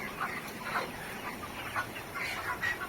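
Chickens clucking inside a poultry farm, with soft irregular clucks over a steady hum of ventilation or fogging equipment.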